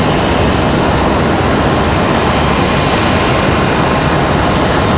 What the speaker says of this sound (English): Delta 1377, that A319-100, headed to Orlando.